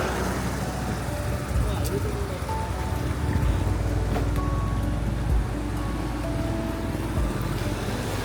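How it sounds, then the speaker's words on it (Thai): A soft, steady patter of light rain with a faint background rumble at That Dam Night Market in Vientiane, Laos, while a person talks over it. "ฝนตกยิบยับอยู่คุณผู้ชมไหม"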